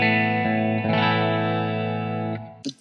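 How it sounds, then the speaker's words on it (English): A sustained electric guitar chord rings through a Blackstar ID:CORE V4 stereo amp in chorus mode, with a shimmering, wavering sheen that holds steady for nearly three seconds before a short final pluck. "the chorus and flanger mode is really nice because you can get those nice kind of shimmery chorusy sounds"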